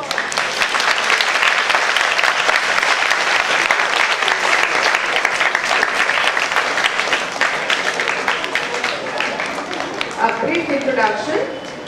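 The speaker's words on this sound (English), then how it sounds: "wish ma'am as well as sir with round of applause" An audience at a Vedic Maths workshop claps loudly and continuously, with the applause thinning slightly toward the end as a voice comes in.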